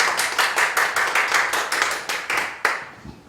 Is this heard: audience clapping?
yes